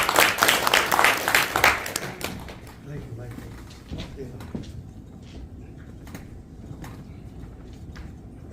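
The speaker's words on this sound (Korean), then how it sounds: "크게 박수 부탁드립니다" Audience applause at an education association officers' training meeting in Incheon, loud and dense at first and then quickly fading into a quiet room as a speaker begins talking.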